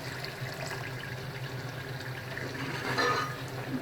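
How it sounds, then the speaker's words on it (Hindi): A little water is poured into a simmering chicken kofta curry in a pan, giving a soft, continuous pouring and bubbling wash that swells briefly near the end, quiet and without talk. "अब इसमें थोड़ा सा पानी ऐड करूँगी"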